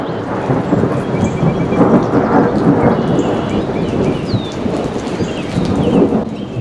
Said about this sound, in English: I'm going to wait out this rain here while the thunder rumbles in the background.